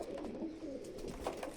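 A female pigeon coos softly up close, a few low warbling calls in quick succession over faint background hiss, with no one speaking.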